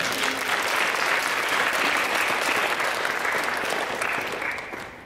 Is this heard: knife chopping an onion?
no